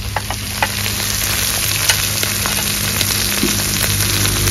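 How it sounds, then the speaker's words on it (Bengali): Spices for a pomfret curry sizzle steadily in hot oil while a utensil stirs them, with constant frying hiss and small scraping clicks throughout, no talking. "এবার ভালো করে কষে নেব।"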